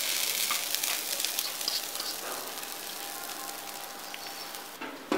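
Grated coconut for a steamed modak filling sizzles steadily in a pan, a bright continuous crackle that holds at an even level and cuts off at the end.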